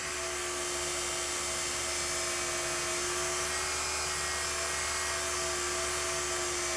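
A wood lathe spins a dice cup, giving a steady, continuous motor whine with a constant pitch that holds evenly throughout at moderate loudness, with no talking.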